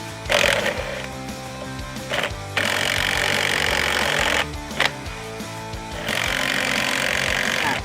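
An LMlava LM240 cordless impact wrench loosening a motorcycle wheel nut gives several loud rattling, hammering bursts of a few seconds each, separated by brief pauses, close and without talk.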